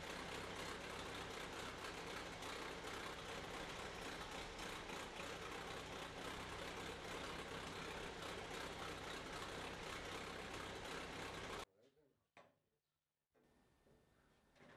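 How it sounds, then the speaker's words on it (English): A 1940 Fordson N tractor engine, started after fifty years idle, runs steadily with a loud continuous rumble for most of the time before cutting off abruptly, leaving brief quiet rustles. "the tractor started on the second swing"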